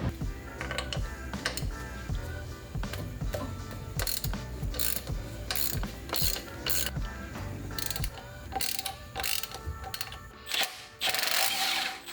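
A hand ratchet works loose the thermostat housing bolts on a 1.6-litre Mazda Miata, its rapid close clicking running in repeated bursts with brief pauses and clanks of the tool between strokes.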